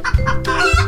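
A hen clucks loudly up close, a couple of quick throaty clucks followed by a longer drawn-out cackle.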